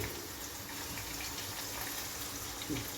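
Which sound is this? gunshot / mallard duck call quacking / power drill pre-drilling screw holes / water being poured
water being poured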